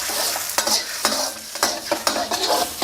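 Sugar and water sauce bubbling and sizzling in a hot pan for braised pork with holy basil, with a steady bright hiss and several sharp scraping stirs at regular intervals, close up and with no talking.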